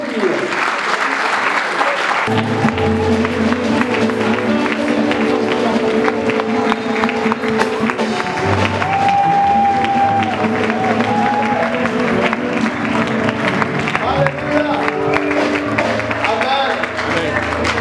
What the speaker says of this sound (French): Et nous allons l'applaudir